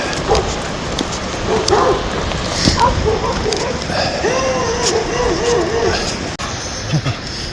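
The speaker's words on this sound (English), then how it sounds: "you guard dog, you got that mean growl, you got the big barks" A guard dog near a river access point with sturdy wood gives a few barks and a low growl, loud and close amid rain-like outdoor noise, with someone talking over it.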